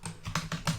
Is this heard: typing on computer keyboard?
yes